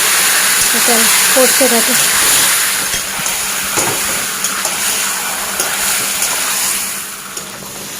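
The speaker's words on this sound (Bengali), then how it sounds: "এই যে ম্যারিনেট করা যায় খাসি মাংসটা, এটা দিয়ে দিলাম।" Marinated goat meat sizzles in a hot pan with a loud, continuous frying hiss that fades slightly over several seconds, while someone talks over it at the start.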